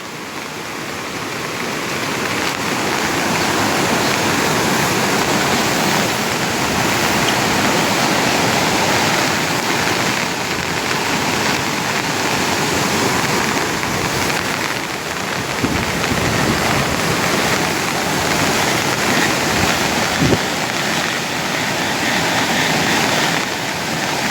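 A rushing stream of water pours steadily during a heavy downpour, a dense, loud, continuous roar of flow and rain with no voices.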